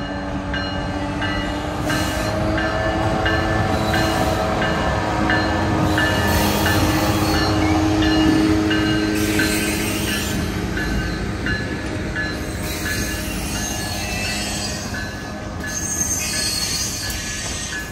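Amtrak San Joaquin train #714 rolls into Richmond station in California, its wheels squealing loudly and steadily on the rails under a continuous rumble, close by and with no talk.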